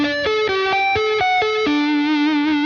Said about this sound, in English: When I flip on the Dynamix 10 switch, it sounds more authentic.